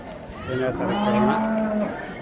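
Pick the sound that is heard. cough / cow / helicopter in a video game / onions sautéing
cow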